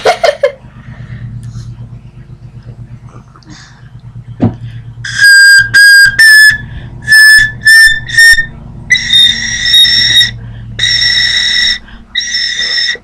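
Over a low rumbling background, a piccolo played with too little air sputters in short breathy bursts, then holds several wavering, airy whistle-like tones.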